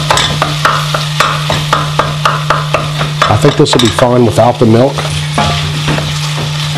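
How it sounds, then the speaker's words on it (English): Creamed spinach mixture being stirred in a bowl, a steady run of scraping, sloshing strokes repeated about twice a second, close and fairly loud, with a low hum underneath and a voice talking briefly midway. "We're going to mix this up till it gets nice and creamy"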